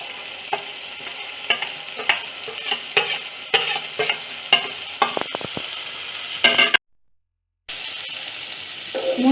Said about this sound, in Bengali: মশলাগুলো এখন আমি মিক্স করছি।